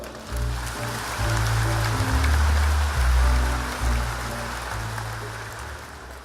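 Steady applause from a large crowd fills an indoor arena in Seoul during a memorial ceremony for Vietnam War veterans, a dense continuous patter over a low droning backing that rises and falls.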